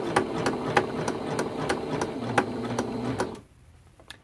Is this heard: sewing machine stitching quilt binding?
yes